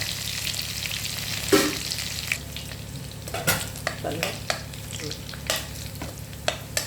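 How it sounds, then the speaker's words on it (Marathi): Garlic sizzling in hot oil for sabudana usal, a soft steady fry punctuated by repeated clinks and scrapes of a spoon against the pan; no talking. "सकाळी उसळ बनवत आहे तेल गरम झालं लसण टाकायचा"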